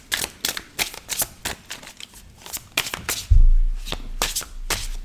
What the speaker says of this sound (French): On y va les amis, on va mélanger cette carte.